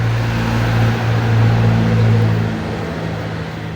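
Road traffic passing beside a roadside workshop: a steady engine drone with a low humming tone swells as a vehicle goes by, then eases off while the traffic noise continues.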